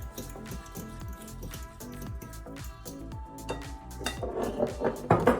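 Coarse untreated sea salt is stirred into homemade Lebanese tabbouleh, with utensils clinking and scraping in a bowl in quick, uneven taps that grow louder and busier toward the end.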